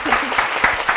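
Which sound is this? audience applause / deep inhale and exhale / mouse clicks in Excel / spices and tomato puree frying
audience applause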